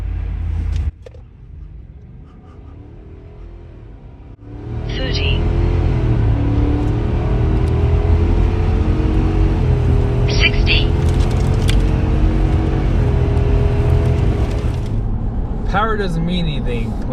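A 2024 Ford F350 Tremor pickup with the 7.3-liter gas engine and 10R140 transmission accelerates hard from low rumble into a sustained loud engine roar, heard from inside the cab over continuous road noise.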